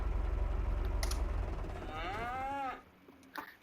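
Baby cows in Farming Simulator 25 give a long, wavering moo that rises and falls, close and loud over a low rumbling farm backdrop. A few brief clicks and a faint mechanical knock follow once the call ends.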